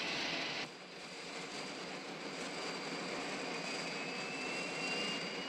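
A jet airplane engine roars in a continuous, moderately distant rush with a steady high whine, no voices.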